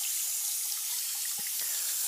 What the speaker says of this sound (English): it's important to first turn on the faucet, to wet your hands